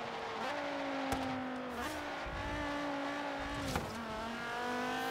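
A car engine revving with tyres squealing while drifting in Forza Horizon 3 on an Xbox Series X, steady rising and falling engine tones with sharp gear-shift breaks, fairly quiet, no voices.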